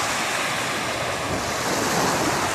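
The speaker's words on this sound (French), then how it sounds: "là il y a des vagues" Ocean waves breaking near a shore at Kuredu, a continuous loud wash of surf mixed with wind buffeting the microphone, no voices.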